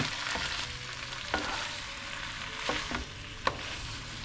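Pad Thai noodles with tamarind sizzle faintly as they are stir-fried, a soft steady crackle broken by a few sharp scrapes and clinks of the utensil against the pan, with no voices.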